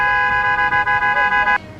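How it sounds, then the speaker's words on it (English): A car horn blares steadily for about a second and a half and then cuts off. It comes from a street recording of a crosswalk where a man walks between a car and a red truck, with faint background noise underneath. "We don't know who's honking."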